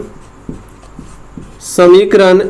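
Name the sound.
writing an equation on a board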